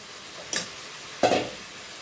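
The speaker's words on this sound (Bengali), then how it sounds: "এবার আমি মাছগুলো দিয়ে দেবো।" Chanda fish going into a hot pan of oil gives two short, sharp sizzling bursts about half a second apart, each hiss fading quickly back to a quiet background.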